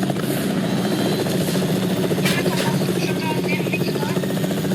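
A helicopter in the Fortnite video game makes a continuous whirring rotor drone at steady loudness, with a player chattering over it and game effects flickering in the background.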